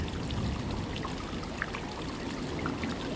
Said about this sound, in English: The water went into a dark and horrible sewer, and so did the tin soldier